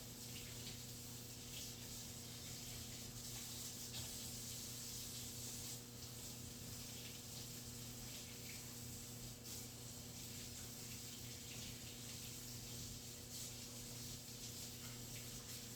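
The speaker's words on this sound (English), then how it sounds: "Let me wash my hands" Water running from a tap as hands are washed in a kitchen, a faint, steady spray and splash lasting the whole stretch with slight rubbing changes and no talking.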